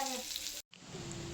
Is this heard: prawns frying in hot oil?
yes